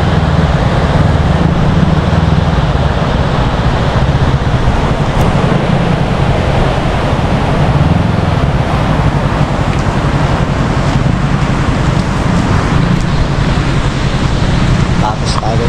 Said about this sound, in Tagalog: Ayun, ang lakas ng agos guys.